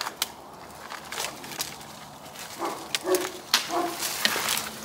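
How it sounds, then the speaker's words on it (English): A dog somewhere nearby lets out short yips and whimpers amid scattered rustling and scuffing, moderately loud, in irregular bursts. "The dog's going mad for it in the house"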